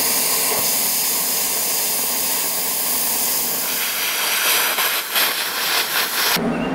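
A plasma cutter slices through steel reinforcing strips for a cutting-table grate, giving a loud, steady roaring hiss that runs unbroken for several seconds before cutting off abruptly near the end.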